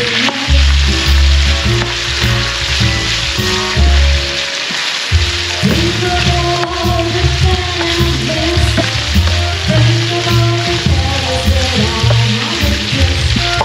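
Garlic and onion being stir-fried in a pan for pork menudo, producing a loud, continuous sizzle and crackle with steady stirring throughout, close and dense like heavy rain.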